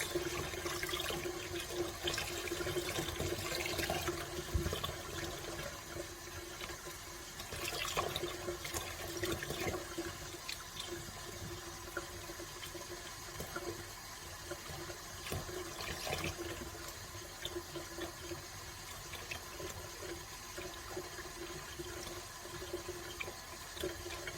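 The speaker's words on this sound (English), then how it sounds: "then we'll give it a good rinse" Running water rinses etched glass in a sink, a faint, steady splashing flow lasting over twenty seconds with small clatters and no speech.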